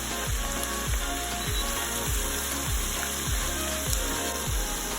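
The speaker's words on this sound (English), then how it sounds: "Add the ground up spices to the oil." Ground spices hit hot oil in a pot while making Hyderabadi haleem, giving a steady, close sizzle with a regular thumping, ratcheting pulse running through it, and no talking.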